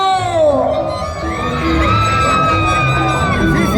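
Many voices in a concert crowd shout and whoop together in a loud, prolonged group yell, pitches sliding up and down as the crowd keeps cheering.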